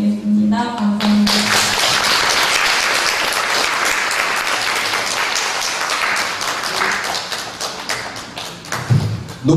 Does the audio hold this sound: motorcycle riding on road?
no